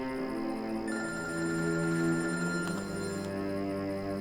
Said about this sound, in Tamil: ஆர்த்தி தான் கால் பண்ணிருக்கா.